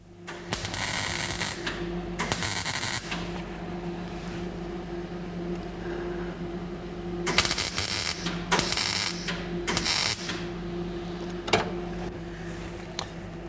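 Short bursts of MIG tack welding on a car's inner sill patch near the seat bearer, several crackling buzzes of a second or so each, separated by pauses and one longer run, over a steady low workshop hum.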